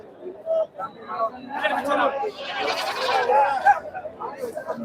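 Young goats bleat amid crowd chatter at the Friday goat market in Ettayapuram, with short wavering cries rising over a busy babble of voices.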